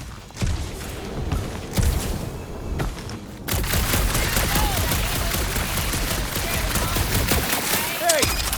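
Blaster fire in Guardians of the Galaxy on a dark monster planet, a run of sharp shots in the first seconds followed by dense continuous combat noise with booms, loud and close.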